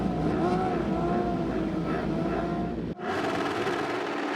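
Several superbike racing engines roar and rev together on a starting grid in a loud sustained blare, then cut off abruptly into quieter engine noise.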